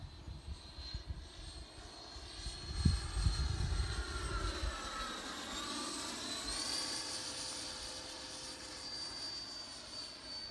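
A Freewing Typhoon 90mm EDF radio-controlled jet flies at full throttle, its ducted-fan whine steady and high. The pitch swells and bends as it sweeps past, with a rushing roar underneath and no talking.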